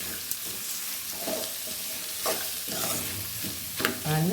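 Chopped onions sizzle and fry in a pan, turning light golden brown, while a utensil stirs and scrapes through them in short bursts.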